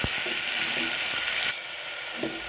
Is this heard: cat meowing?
no